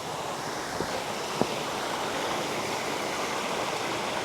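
A historic waterfall pours in a steady, broad rushing wash, continuous and fairly loud, with a couple of faint clicks and no voices.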